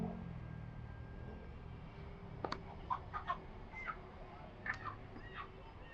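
Live chickens at a market being weighed and sold, a handful of faint, scattered clucks and short calls over quiet background murmur.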